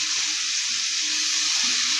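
Potatoes and beef sizzle in hot oil for a special beef bhuna, a steady broadband hiss with light crackling that holds evenly throughout, close and moderately loud, with no talking.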